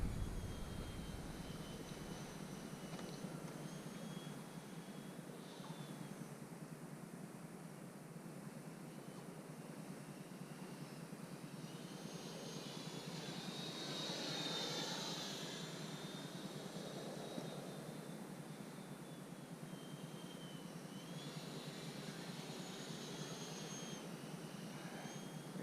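A Freewing L-39 Albatros 80mm EDF RC model jet flies overhead on a Sunday morning, its ducted fan whine rising and falling as it passes, moderately distant and steady.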